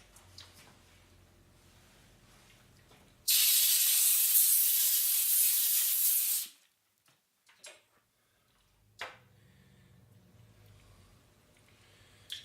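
A compressed air nozzle blows debris off a welded rotary table build in a home workshop, giving a loud, steady hiss for about three seconds before it cuts off, with faint shop clicks before and after.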